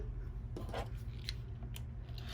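Scissors snipping through fabric appliqué trimmed along a stitched line, a few soft, close cuts spaced out over a steady background hum.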